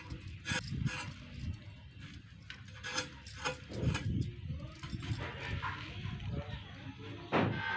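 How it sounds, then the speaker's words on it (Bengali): Thin skin being scraped off pointed gourds (potol/parwal) for pakora, a series of close, raspy rubbing strokes repeating unevenly, with no one talking. "প্রথমে সমস্ত পটলের উপরের এই পাতলা অংশটা খুব সুন্দর করে ছাড়িয়ে নেব।"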